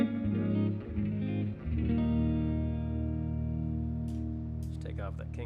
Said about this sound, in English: I really do like the sound of that Les Paul through this twin reverb setting